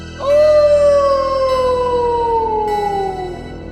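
Werewolf howl sound effect in a men's ball trimmer advert: a single loud, sustained howl rising sharply then sliding slowly downward over about three seconds, heard alone with no talk.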